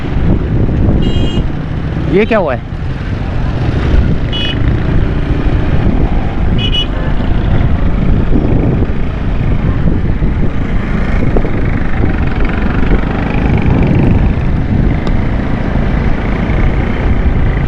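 Stormy wind roars into the microphone beside the Malir Nadi bridge as dust blows, a constant loud rush mixed with passing traffic, while someone speaks over it.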